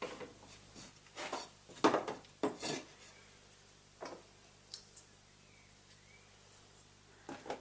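A hand tool trims and scrapes the corners of a wooden panel in a quiet workshop, a series of short close scraping strokes and light taps in irregular bursts with pauses between.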